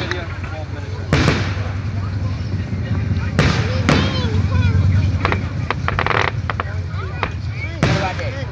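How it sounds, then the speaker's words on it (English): Fireworks at a marina show pop and boom in sharp bursts every few seconds, some with crackling trails, heard at moderate distance over continuous crowd chatter and nearby voices talking. "I'm not talking to Carol about the fireworks."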